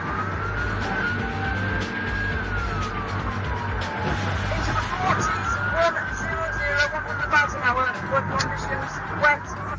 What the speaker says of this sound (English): the drivers on the other side have heard the sirens and hang back